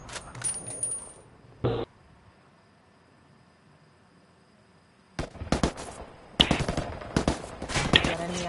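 Bursts of gunfire in the Ghost Recon Wildlands video game: a few sharp shots early, a quiet stretch, then rapid loud volleys and repeated shots crowding the final few seconds.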